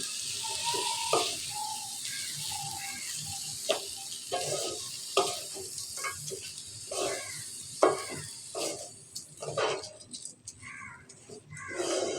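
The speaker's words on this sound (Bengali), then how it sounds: "এখন আমি চাল ডালগুলো যেটি একসাথে রেখেছিলাম সেগুলো আমি এখন দিয়ে দিব এখন নেড়ে রেখে দেবো" Rice and lentils for bhuna khichuri fry in spiced oil in a pot, a soft sizzle broken by irregular scraping and clicking stirs, with faint voice-like sounds in the background.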